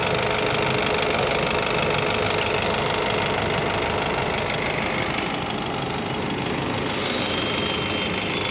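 A 2019 Honda WR-V car engine idles steadily and close by, a continuous mechanical rumble with a faint ticking knock, unchanging throughout with no talking.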